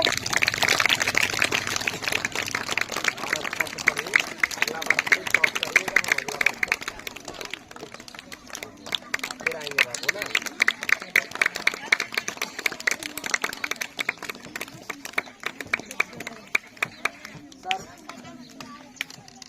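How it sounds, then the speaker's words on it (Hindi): An audience clapping at a school prize ceremony for weekly test results, with dense applause at first that thins into scattered claps, while voices talk over it. "ताली बजाइए।"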